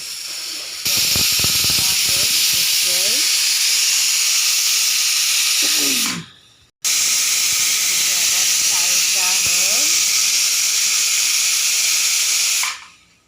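A kitchen pressure cooker cooking rice lets off two long, loud hissing whistles of escaping steam, each lasting about five seconds and ending abruptly, with voices chattering faintly underneath.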